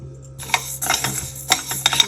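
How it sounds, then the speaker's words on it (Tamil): One cup of urad dal dry-roasting in a pan, heard as a brief burst of rattling, scraping stirs and sharp utensil clinks against the pan after a moment of quiet, close and fairly loud. "அதை வானலில் போட்டு வறுத்துக்கிறேன்."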